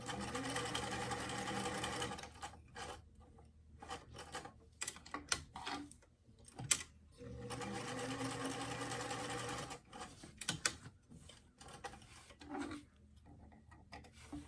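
A sewing machine stitches the side seam of a small doll dress in several bursts, rapid mechanical chattering runs separated by short pauses and faint handling clicks.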